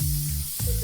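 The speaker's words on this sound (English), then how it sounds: "if you're someone like me who likes to get a little can of spray oil, you could just lightly spray them" A can of spray oil hisses briefly onto falafels, a close, airy spray that lasts under a second.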